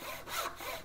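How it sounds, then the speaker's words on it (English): A hand tenon saw cuts through wood in a workshop, producing two long rasping push-and-pull strokes, close and steady with no voices. "when you're sawing, use all of the blade"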